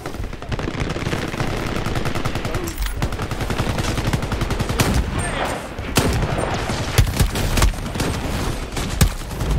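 Loud, sustained automatic gunfire from the online shooter Shatterline hammers in rapid bursts almost without pause, close and dense, with scattered louder shots and faint talk underneath.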